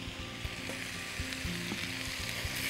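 Ground meat for kofta lasagna sizzles steadily in a pan while being stirred, a close, continuous frying crackle with light scraping and no voices.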